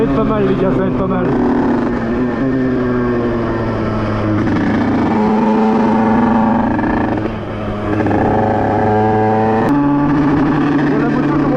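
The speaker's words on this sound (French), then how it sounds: "Bon, la moto commence à chauffer." A Beta 50cc supermoto motorcycle idles and warms up close by, a steady buzzing engine drone with slight pitch shifts and brief revs, while someone talks over it.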